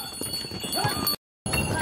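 Donkeys clip-clop along a path on Santorini, hooves tapping in an uneven rhythm close by under a busy background, broken by a brief silent gap near the end.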